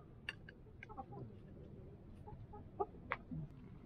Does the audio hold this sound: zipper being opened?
no